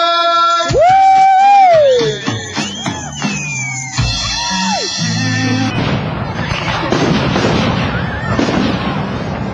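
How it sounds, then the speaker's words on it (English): A Fourth of July fireworks show in Bonners Ferry, with a whistling rocket and crackling bursts, then a dense, loud barrage of booms and crackles filling the second half. "You do not get any fireworks show better than the one in Bonner's Ferry"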